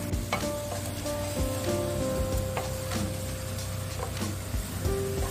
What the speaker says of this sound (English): Now I'm going to give it a mix. Stir it very well.